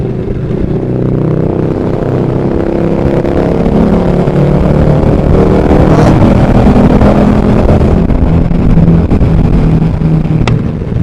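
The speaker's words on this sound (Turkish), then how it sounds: "Tünelde motorun sesi canavar gibi çıkıyor arkadaşlar." A motorcycle engine roars steadily with a booming, enclosed rumble, sustained throughout as it echoes inside a tunnel.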